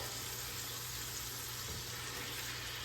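Ground beef frying in a pot for stew, a steady low sizzle with a constant hiss running evenly throughout, fairly quiet and with no talking.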